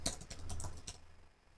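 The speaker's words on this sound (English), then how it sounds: "So we can just type average rating again." Quick keystrokes on a computer keyboard while coding a Java program, a short burst of clicks close up that tapers off into quiet.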